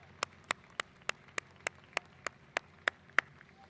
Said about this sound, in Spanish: Un aplauso para ustedes, que son compatriotas excepcionales.